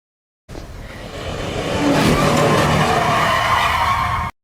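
Car tires skid across pavement in a film scene where a man is struck by the car, a loud continuous screech building over about four seconds with broad rushing noise and no speech.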